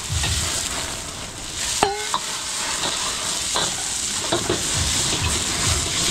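Garlic, onion and ginger sizzle steadily in hot oil in a catering kitchen, a constant crackling hiss broken by a few sharp clanks and scrapes of a utensil stirring the pan.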